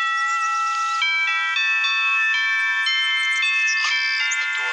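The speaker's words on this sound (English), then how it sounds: "A doorbell." Doorbell at Paul Stanley's front door with its wrought iron twisted metal, chiming a sustained melodic ding-dong sequence of tones, loud and clear with no talking over it.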